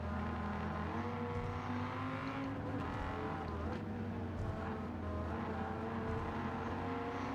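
Dodge Viper GTS race car engine in Gran Turismo 7 on Tokyo Expressway, a steady droning engine note held at high revs with subtle pitch shifts, fairly faint and continuous throughout.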